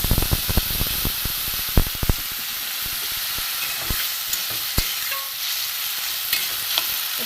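Vegetable curry with ridge gourd peel, bitter gourd, potato, onion and spices sizzles in a pan after water is added, a steady hiss with occasional stirring knocks and clinks.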